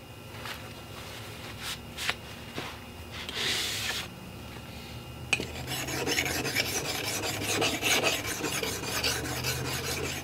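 The back of the iron from an Ohio Tool Co No 95 plow plane is rubbed flat on an abrasive surface, with a few scattered scrapes and then a steady close gritty rasping that runs continuously to the end.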